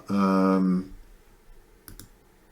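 A computer mouse gives two quick, close clicks near the end, following a short loud tonal sound at the start of the clip.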